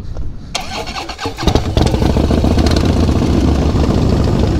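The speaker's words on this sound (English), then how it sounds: "Here we go, on the brother-in-law's bike. It's a 2017 Dynawide" A 2017 Harley-Davidson Dyna Wide Glide motorcycle cranks briefly, then fires into a loud, close, rumbling idle that carries on steadily.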